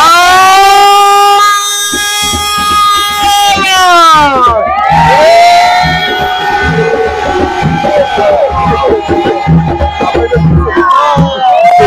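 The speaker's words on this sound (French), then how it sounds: "Un dernier cri, un cri pour le groupe peut-être de vous." A worship-concert crowd shouts and cheers loudly for a praise group, a long sustained roar with whoops and high cries swelling, dipping briefly, then rising again.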